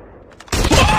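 A sudden loud burst of gunfire from a ZRG sniper rifle in a first-person shooter game, filling the second half after a quieter lead-in, close and harsh.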